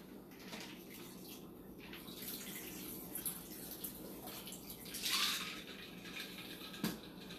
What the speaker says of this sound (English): We're going to pour up.